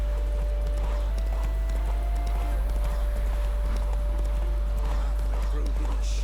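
Roach the horse galloping in The Witcher 3, a steady fast clatter of hooves close up, with a low rumble and speech over the hoofbeats.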